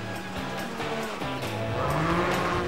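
A drag racing car at Santa Pod, the home of European drag racing, roars with a harsh engine note and tire squeal that builds steadily louder over a few seconds, heard at a moderate distance.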